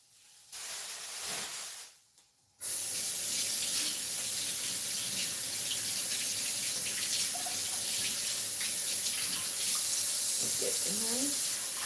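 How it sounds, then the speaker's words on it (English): Water running from a tap into a kitchen sink during cleaning, a steady loud hiss after a brief start-stop, with faint clinks and brief voice-like sounds beneath. "trying to clean out the sink."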